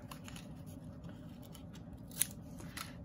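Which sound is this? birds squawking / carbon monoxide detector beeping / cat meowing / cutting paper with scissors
cutting paper with scissors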